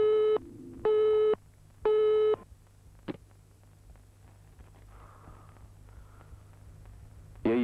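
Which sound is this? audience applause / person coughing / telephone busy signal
telephone busy signal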